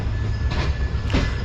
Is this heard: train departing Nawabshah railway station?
yes